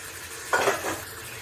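Half a kilo of washed, drained mutton being stirred into a pot for aloo gosht, a brief wet scraping and sizzling swirl that rises for about half a second, then fades into a low background hiss.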